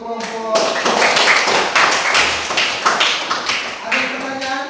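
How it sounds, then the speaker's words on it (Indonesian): A classroom group gives brief, uneven clapping for presenting students, a handful of close individual claps rather than full applause, with a teacher's voice heard before and after. "Kita beri tepuk tangan untuk kelompok."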